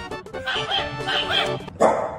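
A small pet dog barks and yips repeatedly at a toy robot, close and fairly loud, with a brighter sharp bark near the end.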